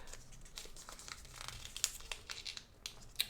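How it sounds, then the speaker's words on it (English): Origami paper is folded back and forth along a crease for a hummingbird model, making soft, close crinkling with small repeated crackles of creasing and no voices. "Now I'm just going to fold this back and forth"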